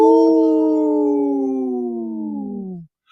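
A single long wolf howl, loud and close, holds a smooth sustained tone that slowly falls in pitch before breaking off after nearly three seconds.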